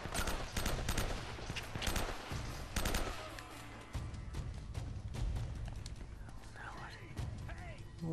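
Rapid bursts of automatic gunfire rattle repeatedly, loud and close, in a busy Uncharted: Drake's Fortune soundscape on PS4 with a voice speaking underneath.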